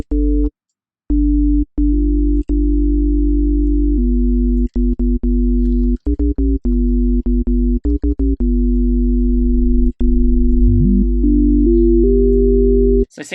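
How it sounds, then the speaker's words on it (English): A steady synthesizer sine wave tone holds and shifts in pitch by small steps, interrupted by frequent abrupt cuts and clicks, loud and close. "Let's take this back to a sine wave."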